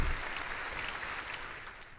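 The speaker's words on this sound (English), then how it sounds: "Oh, the crowd goes wild. Listen to that applause." Steady crowd applause at a live interview show, a dense wash of clapping that holds at an even level for a couple of seconds.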